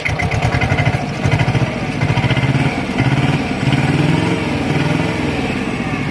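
ISEKI TS2210 tractor engine running close by, a loud pulsing diesel chug with repeated rhythmic rises as the throttle is blipped and revved, no talk.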